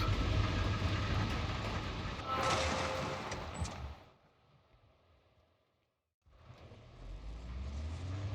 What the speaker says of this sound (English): engine started.